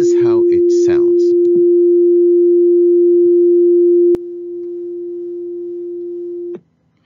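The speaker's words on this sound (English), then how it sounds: "The one on the left is a computer-generated tone of Shruti E4 at 349 Hertz." A computer-generated pure sine tone, Shruti E4 at 349 Hz, holds steady and loud for several seconds after brief speech at the start, then drops in level before cutting off.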